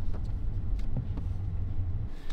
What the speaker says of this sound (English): the last thing I'm gonna show you in the parking lot, this reverse assist